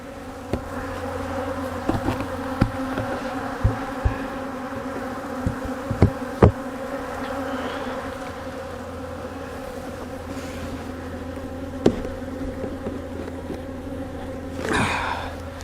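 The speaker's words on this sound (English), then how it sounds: "there's so many bees on the underside of that" Honey bees swarm and buzz around an open hive during a spring brood box inspection, a dense steady hum close by, with scattered sharp knocks and clicks of hive frames and a brief rustle near the end.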